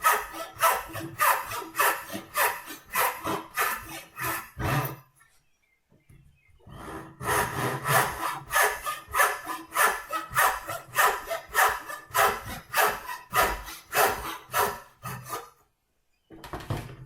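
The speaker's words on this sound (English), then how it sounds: "being careful here to saw on the X side of the line, never saw on the line" Hand saw cutting wood for a picture frame, steady rhythmic back-and-forth strokes, loud and close, with a brief pause partway before sawing resumes.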